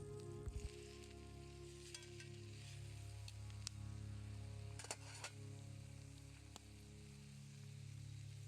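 Fresh steak sizzling at a backcountry campsite during a solo canoe trip in Algonquin, a steady quiet frying hiss with a low hum beneath and a few brief clicks and pops.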